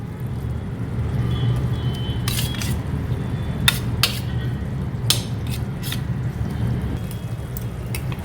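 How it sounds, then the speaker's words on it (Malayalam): A spoon stirs crushed chilli paste with coconut oil in a metal bowl for Malabar chilli chicken. Steady scraping and stirring sounds are broken by occasional bright clinks against the bowl. "എന്നിട്ട് ഇത് നന്നായിട്ട് മിക്സ് ചെയ്യുക."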